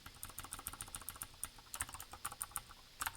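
Rapid, uneven keystrokes clatter on a computer keyboard at close range, steady bursts of clicking with brief pauses and no voices.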